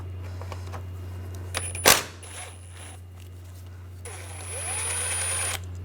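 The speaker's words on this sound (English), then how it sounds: "Take this screw out, use a T30 socket." A T30 socket on a ratchet or small power driver backing a screw out while replacing the radiator of a 2004-2009 Audi A4, a sharp metallic clack followed by intermittent high whirring bursts under a constant low hum.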